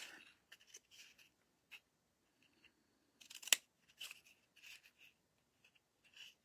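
Scissors snipping through a cardboard egg carton, a scattered series of short, quiet crisp cuts and crunches with pauses between them, one sharper snip near the middle; no one talks.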